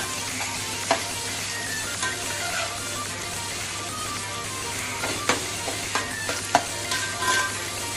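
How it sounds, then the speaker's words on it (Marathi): Chopped onions fry and sizzle steadily in a pan for chicken biryani, with several sharp scraping clicks of a spoon stirring them; no one talks. "व्यवस्थित आपण गोल्डन कलर येईपर्यंत ह्याला फ्राय करूया आपण"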